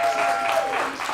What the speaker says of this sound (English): If you're a regular, give him an extra big round of applause.